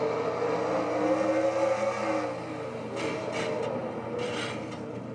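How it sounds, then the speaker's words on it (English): A race car engine from a dirt oval racing game, the DASCAR Shell Dirt Ringer Series Lucas Oil 220, drones steadily in third gear with a continuous mid-low tone, level throughout, and light hissy bursts near the end. "Engine is still running, but 3rd gear."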